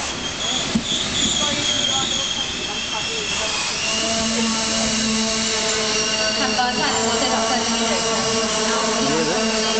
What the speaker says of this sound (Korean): 3번 타는 곳으로 도착하고 있는 열차는 9시 12분에 서울로 가는 KTX 열차입니다.